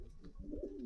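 Pigeons at a Dhaka pigeon market give a soft, brief, low coo, faint and close by, with no talk.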